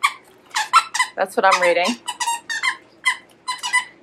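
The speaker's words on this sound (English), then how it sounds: "this soft and squeaky monkey turns into a ball for fetch" Soft plush monkey dog toy with a disc squeaker gives a burst of squeaks mid-clip, close and loud, between stretches of someone talking.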